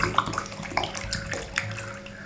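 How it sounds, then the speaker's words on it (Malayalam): About a litre of water is poured into a mug, making a continuous splashing, gurgling stream with small clunks of handling, close and moderately loud. "ഒരു ലിറ്റർ അടുപ്പിച്ചൊരു വെള്ളം മഗ്ഗിലേക്ക് ഒഴിക്കുക"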